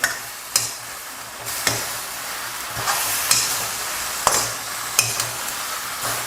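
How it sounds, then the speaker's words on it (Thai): Shrimp and pre-cut vegetables stir-fried in a salted egg sauce, tossed in a hot pan with a steady sizzle and scattered scraping clinks of a utensil against the pan, close and moderately loud, with no talking. "ใส่ผักลงไปได้เลย ผักที่เราหั่นรอไว้นะ แล้วก็ คลุกเขาให้เข้ากันอีกเล็กน้อยครับ"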